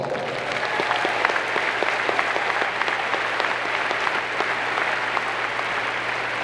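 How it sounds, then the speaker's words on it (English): Audience applause at a Florida State University doctoral hooding commencement ceremony, steady dense clapping from a large crowd that holds at an even level throughout with no speech over it. "Let's give them a round of applause"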